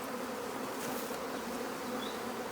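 Honeybee swarm being settled into hives, a steady dense buzzing of many bees close by, continuous and fairly loud throughout with no voices.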